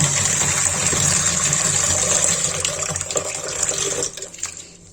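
Water gushes steadily from a tap into a container, loud and close, then tapers off and stops near the end.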